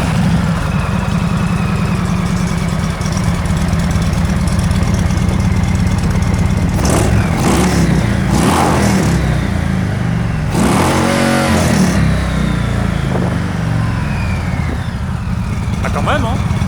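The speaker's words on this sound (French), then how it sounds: "Elle monte quand même assez haut dans les tours" An Indian Chieftain motorcycle idles with a steady low rumble, then is revved in several rising bursts to high rpm before settling back to idle, loud and close throughout.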